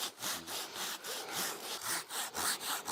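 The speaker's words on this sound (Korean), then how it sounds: "형님 하나 하나만 더 자르고 말자고" A hand saw cuts through wood outdoors at a mountain homestead in winter, with steady back-and-forth rasping strokes about three per second, loud and close, no voices.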